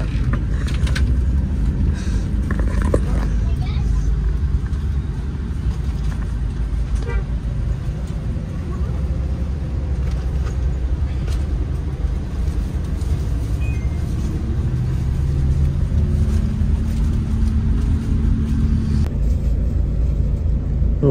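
A Surabaya–Jakarta intercity bus pulling away: a continuous low engine rumble and road noise throughout, with a few creaks and a faint horn toot early on.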